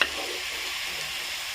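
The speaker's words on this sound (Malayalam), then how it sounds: "ഇതെല്ലാം ഒന്ന് ഇളക്കി എല്ലായിടത്തും ഒന്ന് മസാല പിടിപ്പിച്ചതിന് ശേഷം" Jackfruit masala stir-fry sizzling steadily in a pan as it is stirred, a constant close hiss with a faint scrape at the start and no voices.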